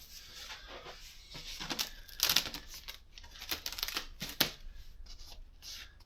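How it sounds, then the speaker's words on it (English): Sticky tape crackles and rips off foam packaging in several short bursts, with crinkly tearing sounds close by separated by brief pauses. "I'm going to try to peel this because I don't have scissors over here."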